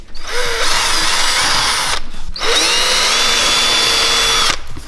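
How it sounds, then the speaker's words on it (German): A power sander whirs loudly on an AMG car bumper in two long bursts with a short pause between, a high grinding buzz close by, no voices. "Wenn wir jetzt erstmal schleifen, komplett alles runter"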